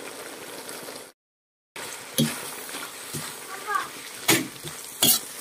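Vegetables stir-fried in a hot pan give a soft steady sizzle, broken by several sharp scrapes and clanks of a utensil against the pan; a short silent gap interrupts early on.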